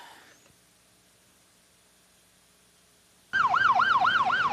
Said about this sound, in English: Within 15 minutes, a Johnson County ambulance unit arrived, including EMT Brent Schurbaum.